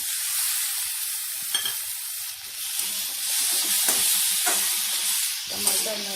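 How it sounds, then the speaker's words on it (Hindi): Chopped tomatoes sizzle steadily in a hot pan of chilli-spiced oil for a tribal Odisha bamboo shoot chutney, a close, continuous hiss broken by a few soft stirring knocks. "अब इसमें हम टमाटर डालेंगे।"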